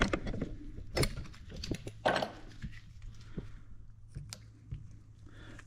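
Wrench loosening a bolt on a John Deere Dubuque two-cylinder 420/430 tractor engine during disassembly: a few close metallic clicks and scraping knocks, with sharper bursts early on, over a low steady hum.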